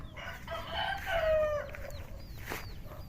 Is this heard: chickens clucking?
yes